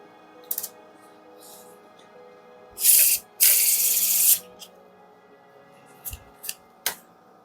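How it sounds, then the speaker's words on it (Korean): A deck of tarot cards being shuffled, with quick papery riffles and a couple of longer sustained shuffles, followed by a few short sharp card taps, close and clear against quiet background. "카드 한 번만 섞을게요. 한 번 더. 골고루 섞어야 되거든요."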